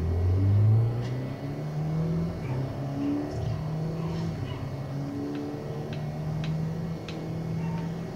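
A race-tuned car with racing gears in the Forza Horizon video game revs and shifts, its engine tone climbing and dropping in repeated steps with faint ticking, loud and steady.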